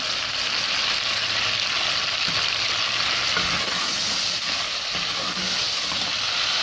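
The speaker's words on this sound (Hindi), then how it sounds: "गोश्त डाल के हम थोड़ा सा इसको भून लेंगे" Meat sizzles and fries in a pan with garlic and ginger, a steady dense hiss with faint stirring clatter throughout, close and continuous with no talk.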